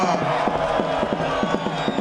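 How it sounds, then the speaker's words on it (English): A large crowd at a Zambian election campaign rally roars and chants in a loud, sustained uproar with rhythmic shouted cadence. "The massive uproar from the crowd did not happen in a vacuum"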